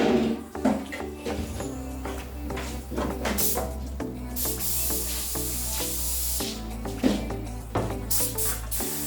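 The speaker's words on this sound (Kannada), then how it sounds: "ಈಗ ಇವರು ಸ್ಪ್ರೇ ಮಾಡ್ತಿರೋವಂಥದ್ದು ಕ್ಲಿಯರ್ ಕೋಟ್" A spray gun lays clear coat onto a Honda Activa scooter panel, giving a steady airy hiss that runs throughout with brief bursts and pauses between passes, heard alongside a continuous low hum and music-like tones.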